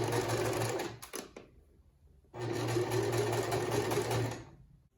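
A sewing machine stitches fabric for a homemade face mask in two runs of fast, even whirring, with a short stuttering burst and a quiet pause between them, close and clear.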